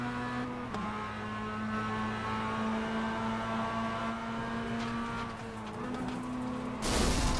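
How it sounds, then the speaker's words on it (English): Sim race car engine in the iRacing game at Motorsport Arena Oschersleben, holding a steady high-revving drone with pitch shifts after a bad downshift, then a sudden loud broadband burst as the engine blows near the end. "Oh, he just blew his engine. He just downshifted bad, and that's that."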